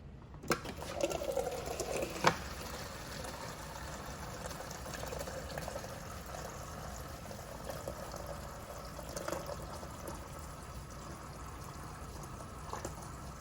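Water runs steadily from a Frigidaire refrigerator's dispenser after a filter change, a soft continuous stream with faint splashing into a container and no talk.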